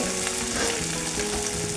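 Ginger and green chili paste with roasted coriander, cumin and fennel frying for a jackfruit curry, a dense, loud, continuous sizzle close up with no speech.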